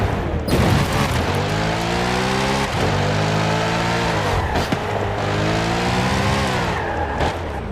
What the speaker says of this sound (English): Let's take a listen to what the Corvette Chevrolet Z06 sounds like